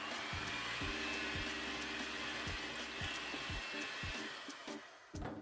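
An electric mixer beats eggs into coconut sheet cake batter, a constant close motor drone with soft rhythmic knocks from the beaters against the bowl, easing off near the end.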